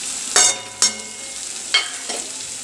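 Thick onion-tomato masala for cashew curry roasting in oil with Kashmiri red chilli powder and turmeric, a steady soft sizzle broken by four sharp spatula scrapes and stirs against the pan, close and alone.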